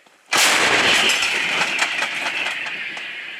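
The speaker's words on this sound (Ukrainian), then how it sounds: "Гармата! Постріл!" A single sharp, powerful boom of an artillery gun firing during fighting near Pervomaiske by Donetsk, followed by a long ringing, rumbling decay.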